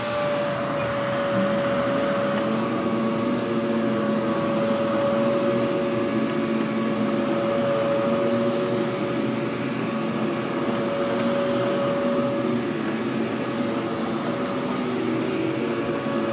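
A Hoover Z400 upright vacuum cleaner runs on low-pile carpet at the medium setting, giving a loud, steady motor whine and airflow roar that holds unbroken from start to finish, with no voices.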